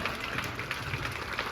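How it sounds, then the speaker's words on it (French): An audience in a large arena applauds at a mentalism show. The clapping is a continuous, even wash that is fairly distant and soft and holds steady throughout. "Et vous pouvez l'applaudir bien fort."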